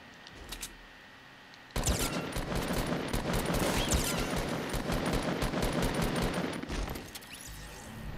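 Dense bursts of rapid automatic gunfire from a Fortnite match start abruptly and continue as a loud, sustained barrage of overlapping shots for several seconds.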